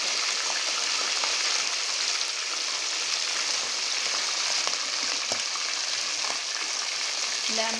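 Marinated chicken pieces fry in very hot ghee, giving a loud, constant close-up sizzle with faint scattered crackles and pops that runs unbroken throughout, with no talking.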